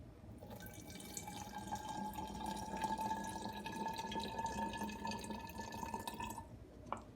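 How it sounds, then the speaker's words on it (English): Raptor tintable liner paint is poured steadily into a bottle, making a continuous liquid gurgle with a rising tone as the bottle fills, which stops with a small knock at the end. "Grab your Raptor bottle, tintable. You just pour it in there."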